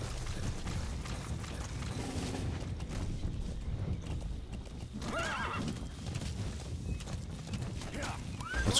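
A video game horse clip-clops along with a whinny partway through, steady hoofbeats layered over game ambience and faint background voices.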